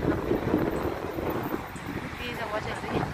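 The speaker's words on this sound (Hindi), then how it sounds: "आज तो हवा ही हवा चल रही" Outdoor wind in Malmö, Sweden buffets the microphone with a steady low roar and gusty swells, while someone talks faintly underneath.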